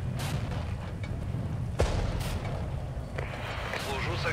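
Enemy counter-battery artillery in the Regiments strategy game, a few heavy distant booms and sharp reports over a constant low battlefield rumble, with occasional voices.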